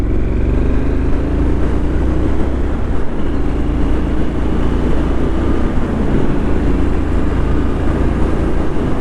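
A 2025 Triumph Scrambler 900 motorcycle cruising in fourth gear at just over 90 km/h, its engine a loud, steady low drone with wind rush, continuous and unbroken, with no talk.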